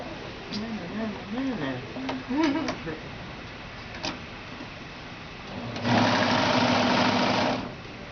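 Someone talks before a serger sewing machine starts up and runs steadily for about two seconds, joining zig zag knit quilt pieces, with a dense, close mechanical whir that stops abruptly.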